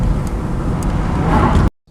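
A car driving along the road from Point Clear up to St Osyth in Essex, with a loud, steady engine and road rumble that cuts off abruptly near the end.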